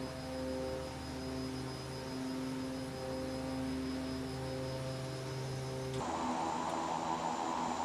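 A DHC-6 Twin Otter taxies in the X-Plane flight simulator, giving a steady, moderately quiet engine drone with a tonal hum that shifts and brightens near the end.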